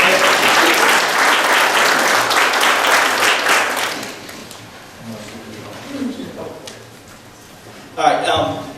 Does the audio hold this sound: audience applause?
yes